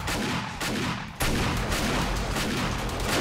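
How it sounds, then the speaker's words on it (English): Shotgun blasts in 7 Days To Die during horde night defending a capsule-line base, dense overlapping gunfire close and loud with a sharp jump in intensity partway through, continuous chaotic shooting with no pauses. "All right, let me start shooting."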